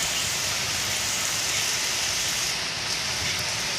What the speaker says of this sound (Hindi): देखिए कितनी खतरनाक बारिश हो रही है।